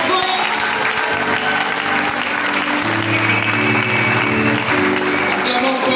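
An audience at a workshop applauds as the director leaves, dense continuous clapping filling six seconds at a steady loud level, with a low hum and some voices underneath.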